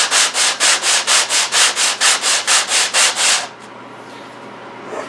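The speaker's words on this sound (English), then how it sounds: "In fact, I would always start with 80 grit. Feel around there for any ridges, and keep doing that until everything is smooth." A wooden jewelry box is sanded with 80 grit sandpaper, about fifteen loud, even back-and-forth rasping strokes up close, then stopping into quiet room tone.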